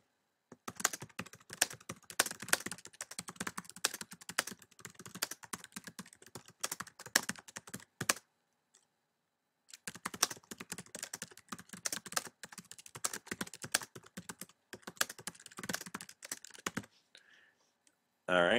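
Quiet, close typing on a computer keyboard runs in steady streams of rapid clicks, pauses for about two seconds, then resumes, with no speech.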